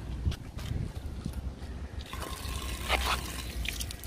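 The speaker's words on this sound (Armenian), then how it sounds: "Տեսեք, աղբյուր։" Water trickling and dribbling from a spring in a park, a steady close splashing flow with a few brighter drips, heard alone without talk.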